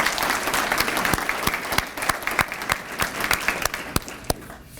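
Audience at an awards ceremony gives a steady round of applause, dense clapping with a few sharp louder claps standing out, thinning slightly toward the end.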